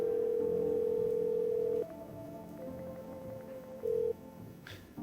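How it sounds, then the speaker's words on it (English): A steady phone dial tone sounds in the No I'm Not Human video game, followed by a few short beeps as a call is placed, fairly quiet with faint background hum. "let's call the neighbor"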